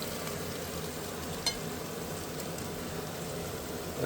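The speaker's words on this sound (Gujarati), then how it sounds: "હવે મસાલો હેકાઈ ગયો છે જો" Masala spices fry in a pan with a soft, steady sizzle and low crackle, faint and close, with one small clink of a utensil partway through.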